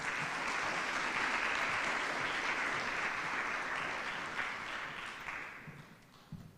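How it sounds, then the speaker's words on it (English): Audience applause at a university orientation day event, a steady dense wash of clapping from a crowd in a hall, gradually thinning toward the end. "once again, please give a big applause to Gerli."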